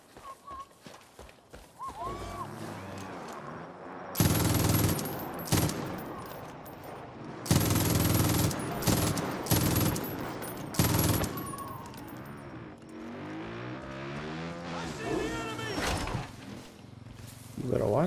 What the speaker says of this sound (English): Let's go try to figure out who's firing